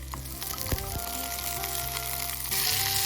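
Garlic stir-frying in leftover oil in a pan for a tomato and egg dish, a steady close sizzle with a few sharp crackles and spatula scrapes, growing slightly louder near the end.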